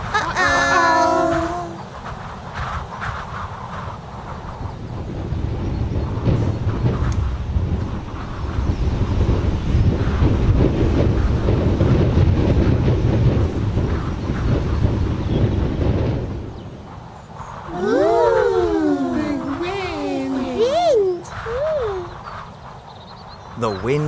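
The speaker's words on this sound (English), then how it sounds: "a big wind blew" Strong cartoon wind gusting through Teletubby Land, a broad roaring whoosh that builds and holds for about ten seconds, with squeaky voice-like sounds before and after it.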